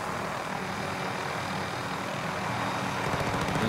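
A helicopter in a video game flies steadily, a continuous whirring rotor and engine drone at even loudness, swelling slightly toward the end with no talk over it.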